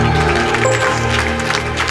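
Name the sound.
congregation applauding, clapping hands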